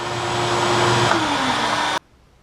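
A vacuum cleaner sucks loose brass cartridge cases for .223/5.56 reloading, a loud steady roar with a shifting pitch and rattling grit that cuts off abruptly near the end.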